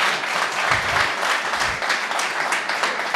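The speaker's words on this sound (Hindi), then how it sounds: "एक बार जोरदार तालियां हो जाए यार TRD की पूरी टीम के लिए।" An audience applauds the TRD team with dense, steady clapping that holds at full strength throughout, with no voices on top.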